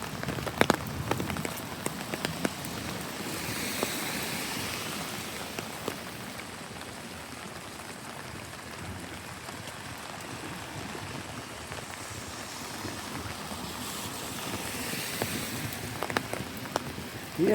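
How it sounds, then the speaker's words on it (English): Heavy rain falls steadily across a downtown street, a dense, continuous hiss of drops pattering on pavement and umbrellas, close and even throughout with a few sharper spatters. "I'm not going to go too far because it's raining"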